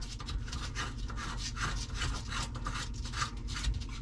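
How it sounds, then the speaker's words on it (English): A nut being turned loose beneath a Moen kitchen faucet under a sink, giving close, continuous rubbing and scraping with rhythmic grinding strokes, no talk. "Turn the nut with the other hand. So as you guys can see, taking this nut off."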